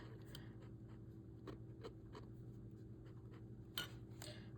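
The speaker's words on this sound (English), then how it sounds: "I'm just gonna do a dip pen writing here" A dip pen with a medium nib scratching on paper while writing with shimmer ink, faint intermittent strokes over a low steady room hum, close and quiet.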